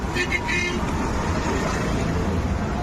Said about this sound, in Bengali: গাড়ি যাচ্ছে প্রচুর পরিমাণে